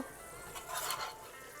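Beef nihari masala paste being stirred and fried in a pot, a soft steady sizzle with faint scraping of a utensil, brief louder swells midway, no talking.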